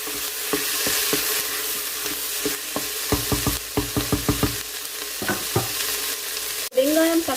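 Onions, tomato and green chili sauté in a pot for a Sri Lankan-style mutton gravy, with a steady frying sizzle underneath and a series of sharp spoon scrapes and stirring knocks, close up, ending with a louder clatter.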